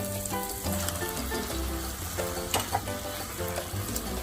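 Minced meat hits a hot pan with Goan croquette spices and salt already cooking, giving a steady close sizzle that runs throughout beneath a layer of tonal background music.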